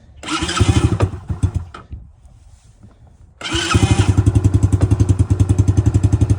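An X-Pro 110cc kids' ATV engine on choke sputters through pulls and dies briefly. It then catches and settles into a loud, steady, rapidly pulsing idle close by.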